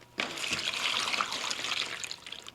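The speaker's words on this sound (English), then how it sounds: "Go ahead and throw some water in the bottom." Water is poured into the bottom of a seed tray, making a close, steady splash and trickle that lasts about two seconds.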